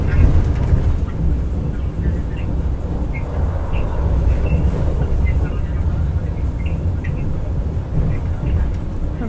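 A Vande Bharat Express train running from Varanasi to New Delhi rumbles steadily past a station, a loud continuous low roar of wheels and carriage noise with faint higher squeaks, heard from inside the train.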